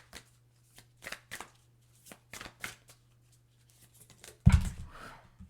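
Numerology oracle cards being shuffled and moved by hand, a series of short papery riffles and slides, close and soft, ending with a louder burst of cards.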